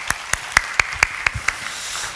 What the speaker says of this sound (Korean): 박수로 하나님께 영광을 돌려드렸으면 좋겠습니다